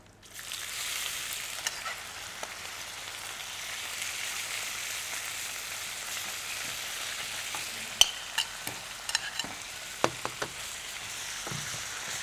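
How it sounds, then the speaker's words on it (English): Pork in chilli and galangal marinade frying in a pan, giving a steady soft sizzle throughout with occasional sharp pops and utensil taps toward the end. "Now, just fry this next batch"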